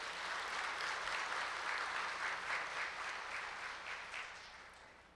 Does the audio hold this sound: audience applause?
yes